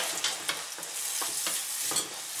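Chinese-style beans with ground pork and onion fry in a pan, a soft steady sizzle broken by several sharp scraping stirs, fairly quiet and with no voices.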